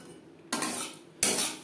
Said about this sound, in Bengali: একটা কালার আসা পর্যন্ত নাড়াচাড়া করে নেব।